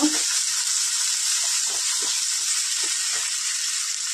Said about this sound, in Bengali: কালো জিরা ফোড়ন, পেঁয়াজ কুচি, নাড়াচাড়া করে নেব।